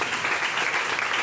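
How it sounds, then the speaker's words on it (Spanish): A church congregation claps together in loud, steady applause, a dense wash of handclaps with no pauses and no voices over it. "Bríndele un fuerte aplauso a Dios"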